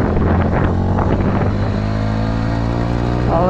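A motorcycle opening up the throttle while riding through a city, a loud close engine drone with rising revs and heavy wind buffeting over the microphone, with no voices.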